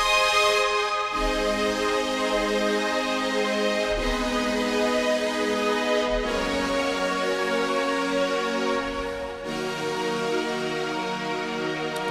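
A synth pad made in Ableton Live for a song remake plays sustained, bright chords that change every couple of seconds, smooth and steady with no talking.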